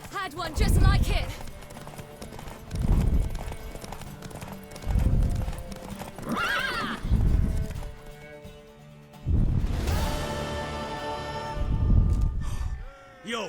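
Horse hooves pound in loud, rhythmic bursts from Witcher 3, the game's galloping horse racing up close with brief pauses between strides and a faint whinny mixed in.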